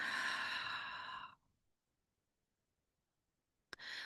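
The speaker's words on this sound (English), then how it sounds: "Take a deep breath in." A deep inhalation during a relaxation and energy-healing exercise, a loud breathy rush lasting just over a second, followed by near silence and a brief sharp sound at the end.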